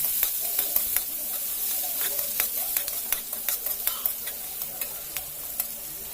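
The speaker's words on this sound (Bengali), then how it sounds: "পেঁয়াজটা ভালোভাবে নেড়ে চেড়ে" Chopped onions with whole cumin are stirred and fried in a pan, a continuous close sizzle broken by repeated sharp scraping strokes of the spatula, with no talking.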